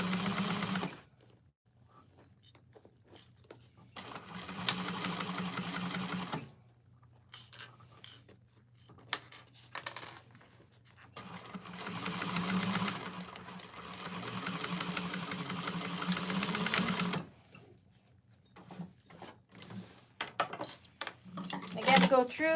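Sewing machine stitching a second line along a bag lining, running in several long bursts with short pauses between them, plus a few faint clinks and taps, with a voice talking now and then.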